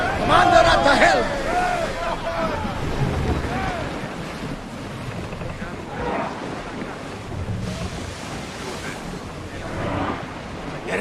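A sailing ship cuts across the open sea in Assassin's Creed Odyssey, with waves washing and wind buffeting steadily throughout while voices speak in the first few seconds.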